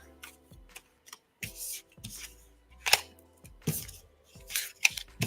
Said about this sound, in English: I'm going to shuffle the cards again